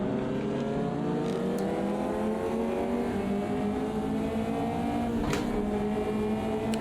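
A light race car's engine in the racing game Automobilista 2 drones steadily at high revs, its pitch slowly climbing and dipping as the car drives on, loud and continuous throughout.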